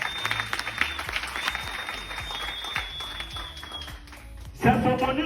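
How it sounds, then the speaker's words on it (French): Audience applause at a business presentation, a dense wash of clapping that fills the hall and holds steady for several seconds, then shifts abruptly near the end as a louder sound or voice cuts in. "Est-ce qu'on peut applaudir pour les 16 millions?"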